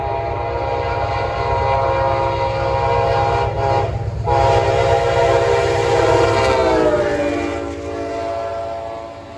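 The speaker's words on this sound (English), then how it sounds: "Amtrak 80 rolls northbound through Emporia with number 13 leading." An Amtrak passenger train rolls northbound through Emporia on a CSX line, loud and close, its rumble and clatter carrying on under a long blast of the horn.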